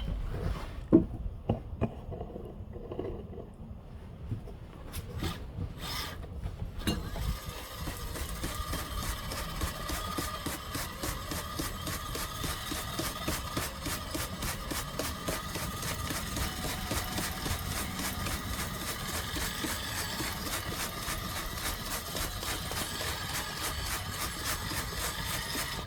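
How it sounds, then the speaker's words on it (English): Stiff brush scrubbing the spinning track of a Kabolite K961/K963 RC hydraulic excavator, a steady dense scratching and whirring close by that runs continuously after a few brief knocks at the start. "I use it to clean off the track while the track's spinning"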